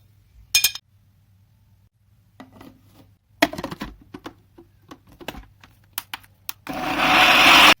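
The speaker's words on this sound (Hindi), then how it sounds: "इन्हें इसके अंदर डालकर एक बार ग्राइंडर चला देंगे" Spice powders for nihari masala rattle and clink as they go into a grinder jar, followed by a loud, steady whir of the electric grinder starting up close by.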